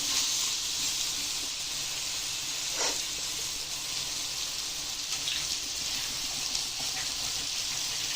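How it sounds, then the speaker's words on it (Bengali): Water pours into a hot pan of spices with papaya and potato for a Bengali dish, giving a steady sizzling hiss throughout, with small bursts of spitting and bubbling. "করে নিয়ে এতে আমি দিয়ে দেবো এখন জল।"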